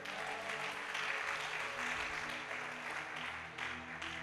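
Church congregation applauding in acclaim during a sermon: faint, sustained, even clapping that continues for several seconds.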